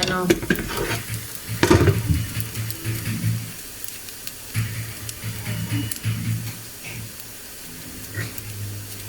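Tomatoes go into Asian-style fried rice in a pan and are stirred through it, giving a steady sizzle with scraping, clattering utensil strokes against the pan and a few louder knocks.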